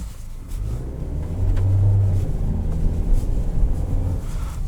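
A 2020 Nissan Kicks SR drives over snow-packed ice on urban streets near Boston, giving a steady low engine and road rumble that rises to a fuller drone midway, then holds.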